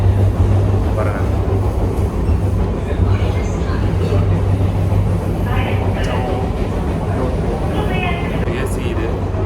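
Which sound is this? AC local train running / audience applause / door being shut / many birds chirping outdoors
AC local train running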